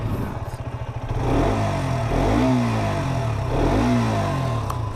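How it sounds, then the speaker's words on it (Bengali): A KTM RC 125 BS6 sport motorcycle's exhaust rises from a throbbing idle into two loud, close revs that climb and fall back, steady and unaccompanied by talk. "আর বাইকটার এক্সস্ট নয়েজ ব্যাপারে যদি বলি"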